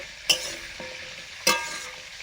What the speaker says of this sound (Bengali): সিম ভাজা করার জন্য সিমগুলোকে শুকনো কড়াতে ভাপিয়ে নেব।